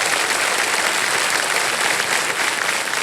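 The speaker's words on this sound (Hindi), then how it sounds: "बार जोरदार तालियां हो जाए हमारे कंपनी की" Studio audience applause on the set of the KBC quiz show, dense and steady clapping that stays loud and even throughout with no talking.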